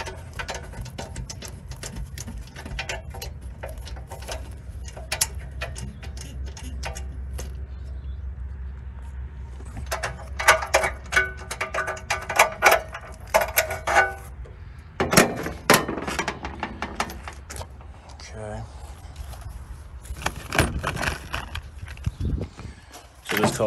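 A socket wrench unscrews the spark plug from a Generac model 6551 generator, giving scattered metallic clicks and ratcheting taps that grow busier midway, close and fairly quiet, with no talking.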